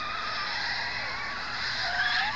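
A car sound effect from a Back to the Future app plays through a phone speaker, a thin, tinny engine rev with a squealing, rising tone near the end, continuous and moderately loud without voices.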